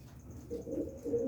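A big red Cheena pigeon coos softly in low, rolling murmurs, two short bursts close by against quiet background hiss.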